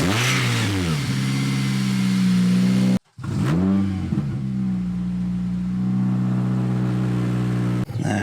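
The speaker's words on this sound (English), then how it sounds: "Exhaust. Let's remind ourselves how loud it is first." Honda Civic Type R with a loud aftermarket exhaust revved hard up close, a sustained droning blare that cuts out briefly midway, then returns and holds steady at high volume with no talking.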